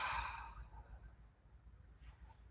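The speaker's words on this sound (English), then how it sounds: "Last exhale." A long, breathy exhale at the close of a yoga session starts loud and near, then fades into soft room noise with a faint breath near the end.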